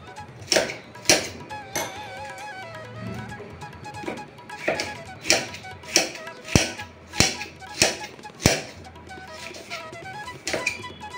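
Knife chopping onion and three green chillies on a board for a fisherman-style small fish curry, a run of sharp, fairly regular taps, about a dozen close strikes spaced roughly half a second apart, over faint background hum.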